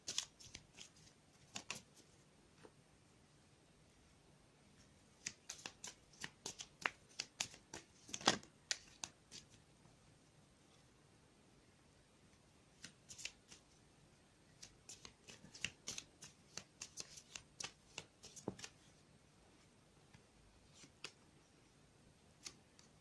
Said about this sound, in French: Je pense que je vais tirer deux cartes, une carte complémentaire pour chaque carte.